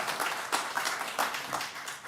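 Scattered audience applause at a county commission meeting, a brief moderate patter of hands clapping in a room.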